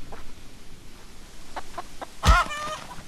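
Chickens cluck in the video game Hollow Cocoon, a few short soft clucks followed by one louder, sharper squawk near the end over a quiet background.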